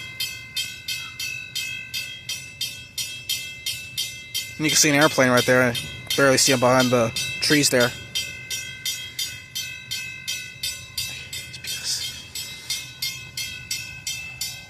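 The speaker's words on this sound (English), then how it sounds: "They're getting angry because of this train here." A train passes a railroad crossing with a steady rhythmic clatter of wheels and a continuous high crossing bell pulsing throughout, and a horn blaring in long blasts midway; a person talks nearby.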